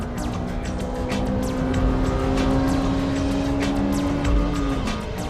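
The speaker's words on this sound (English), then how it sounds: "I can approach this hairpin at full throttle." A Honda Integra Type R engine howls at full throttle through a hairpin, a loud, steady high-revving drone held close by with faint tire noise and no talk.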